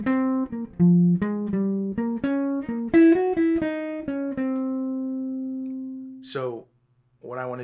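Fast bebop phrase, played as a quick run of clear pitched notes that ends on a long held tone, followed by brief talking.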